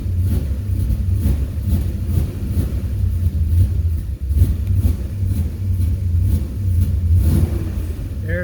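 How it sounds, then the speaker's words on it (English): Car engine fitted with an Edelbrock E-Street EFI system, running rough as the gas pedal is pumped to keep it alive, a loud close rumble with repeated surges of revving and uneven dips. "I'm just pumping the gas pedal just to keep it running until it reconnects"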